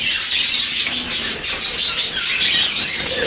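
Budgerigars at a bird market in Dhaka keep up a dense, bright chatter of overlapping chirps and squawks, close and continuous, with no voices.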